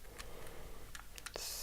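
A 4x4 puzzle cube being twisted by hand gives a few faint plastic clicks and short scraping turns, spaced irregularly and heard close against a quiet background.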